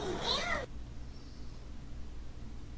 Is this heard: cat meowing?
yes